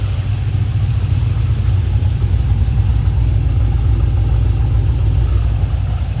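A Nissan Silvia fitted with a TH400 automatic transmission runs steadily, its engine giving a loud, even low rumble close by with no talking over it.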